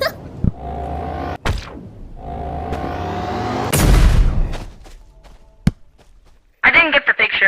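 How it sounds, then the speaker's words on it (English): An explosion in the video game Animal Company: a sharp, loud boom with a rumbling tail, set among other abrupt game impacts and tones. "The bomb exploded before I got it."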